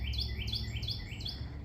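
Birds chirp in a backyard garden with squirrels about, giving four quick repeated high tweets in steady rhythm over a low outdoor hum.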